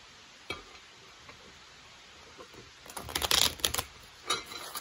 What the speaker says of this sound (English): Nana does the shuffling for me and her